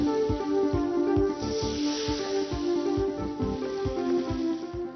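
Potato pieces for pakoras deep frying in hot oil in a deep fryer, a steady loud sizzle and hiss with a constant bubbling crackle that runs unbroken throughout.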